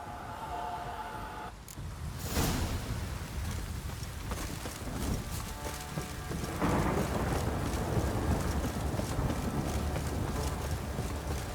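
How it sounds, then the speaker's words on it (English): Heavy rain in The Witcher 3: Wild Hunt pours down steadily with a dense hiss, broken by a sharp crack and low rumbles of thunder. "This downpour's a bastard, it is."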